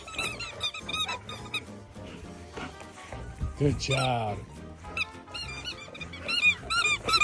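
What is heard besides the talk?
dogs squeaking new squeaky toys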